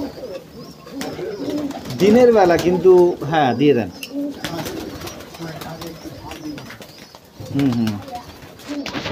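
Many pigeons cooing in a flock gathered for feeding during the day, soft rolling coos rising and falling in bursts close by, with people talking over them.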